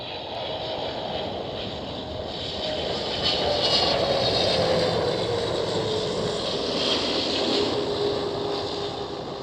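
Boeing 777 engines roaring at Amsterdam Schiphol airport, a broad, distant jet rumble and whine that swells in the middle and holds steady, with no talk.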